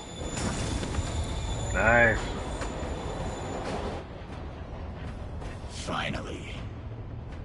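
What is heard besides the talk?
train moving in the video game Marvel's Spider-Man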